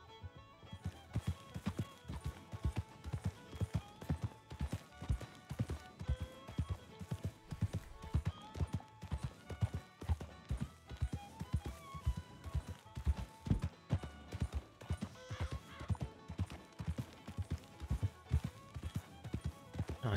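Horse hooves clip-clop in a steady, quick rhythm throughout, fairly faint with soft music beneath, as a rider travels in the Red Dead video game.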